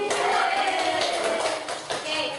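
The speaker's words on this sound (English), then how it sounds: "Give applause for you all" Classroom applause during an English lesson on the simple present tense, steady clapping from students mixed with voices and general room noise, fairly faint.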